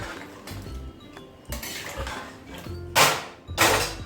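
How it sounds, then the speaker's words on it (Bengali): Bengali-style mutton curry is stirred with a metal spatula in a pan after hot water is added. Irregular scraping strokes and sharp metallic clinks come close and loud, with the last few knocks the strongest. "গরম জল দেওয়ার পর খুন্তি দিয়ে মাংসটাকে ভালো করে নেড়ে চেড়ে দেব"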